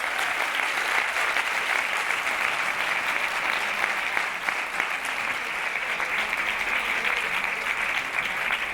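Sustained audience applause after a conference talk, steady and dense with many hands clapping evenly for the whole stretch, fairly close and without pauses.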